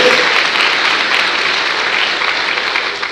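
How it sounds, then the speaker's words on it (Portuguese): Congregation at a church sermon applauding together, a steady, dense wash of many hands clapping that stays loud and even throughout. "Você pode aplaudir o Senhor?"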